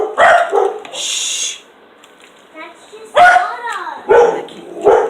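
Dogs bark in loud, sharp bursts close by in a home kitchen, several barks and yips spread over a few seconds, with a person hushing them between barks.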